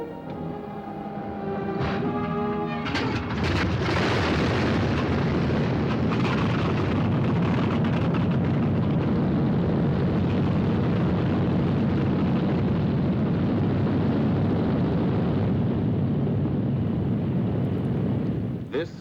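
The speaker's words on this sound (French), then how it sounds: "on entend juste le vrombrissement des bombardiers dans cette campagne anglaise, autrefois si paisible" WWII bombers droning over the English countryside, a dense continuous engine roar that swells in after a few seconds and holds loud and steady, with a voice speaking at the start.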